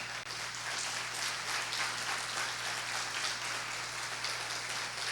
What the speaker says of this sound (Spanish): Le da un aplauso al Señor entonces.